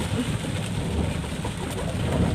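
Steady rain falls around a car out on a drive toward a reservoir fishing spot in Thailand, forming a continuous broadband hiss with no voices.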